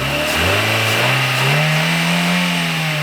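An Audi A3 engine revs up from idle in a rising, sustained sweep, loud and close, with the pitch climbing steadily over a few seconds and no voices.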